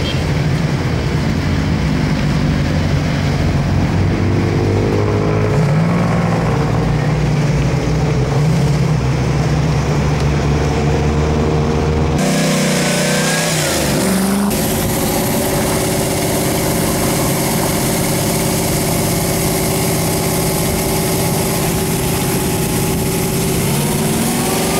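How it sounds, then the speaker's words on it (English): A 1967 Ford Mustang GT500 'Eleanor' in right-hand drive runs steadily out on the road, its engine a continuous loud drone with a brief shift in tone midway and no talking. "we're going to jump in the car, we're going to go out for a drive, and let you see what it's like on the road"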